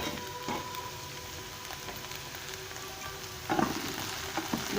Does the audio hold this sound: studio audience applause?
no